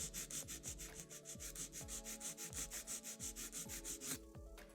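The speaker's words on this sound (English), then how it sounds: "Second step in filing is straight out from the nail groove on the right." A nail file drawn straight out from the nail groove across a fingernail, a fast and steady run of close, dry rasping strokes with an even rhythm, alone with no talk. A brief pause comes near the end.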